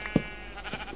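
A sheep in Minecraft gives a short, close bleat, with a fainter bleat following shortly after.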